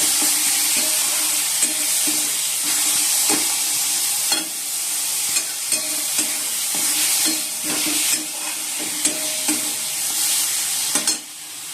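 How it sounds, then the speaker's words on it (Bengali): Spice paste frying in a pan with oil, a steady loud sizzle broken by regular scraping strokes of a spoon stirring, with no talk. "আর এদিকে মশলাটাও কষে নিচ্ছি"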